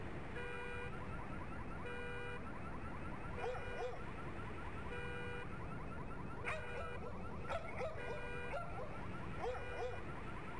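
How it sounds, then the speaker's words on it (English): Counter-Strike Back Alley Easter egg near the Pop Dog billboard: a repeating electronic car alarm wails in patterned bursts while several dogs bark and whimper intermittently nearby, all steady and fairly loud throughout. "a car alarm will go off and dogs barking can be heard"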